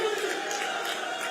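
A large crowd at a public event in Meerut with Chief Minister Yogi marking a new township gives a dense, steady roar of applause and cheering, loud and continuous throughout.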